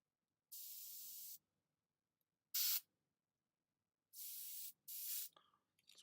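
An airbrush gives several short bursts of spray, a few loud, steady hisses about a second long, separated by silence, with a sputtering tail on the last burst.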